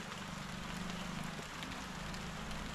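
Steady rain falls outdoors during tree planting, a continuous even hiss of drops with a low rumble underneath and no voices.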